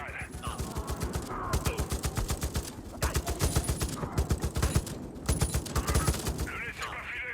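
Rapid gunfire from the Far Cry 5 video game set in Holland Valley, bursts of loud shots in quick succession with short pauses between volleys, alongside game background noise.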